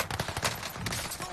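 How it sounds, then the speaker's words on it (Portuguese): Rapid bursts of video game gunfire crackle over busy background noise, dense and fairly faint throughout a short moment of play. "Nossa, velho, tem tiro que esse cara me acertou"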